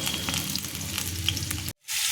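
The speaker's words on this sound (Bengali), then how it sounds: "প্রথমেই আমি পটলটাকে ভাজতে দিয়েছি" Pointed gourd sizzles in hot oil in a pan, the first step of a potato, pointed gourd and prawn curry; a steady, close, dense crackle that cuts out briefly near the end before resuming.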